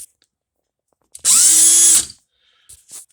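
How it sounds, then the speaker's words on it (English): A power drill runs at high speed with a Jennings .22 pistol firing pin chucked in it, giving one loud, steady whine of about a second with a quick spin-up and wind-down, followed by a few soft handling clicks. "you'll put that in a drill on high speed"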